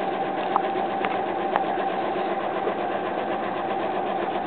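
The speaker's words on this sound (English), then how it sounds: "I'm going to the machine here. Sew the line between 1 and 7." A home sewing machine stitches a quilt seam with a steady, continuous mechanical whir close by and no voices over it.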